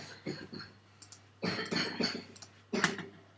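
Several quiet coughs and throat-clearing sounds come in short clusters, fairly soft and close, with brief pauses between them.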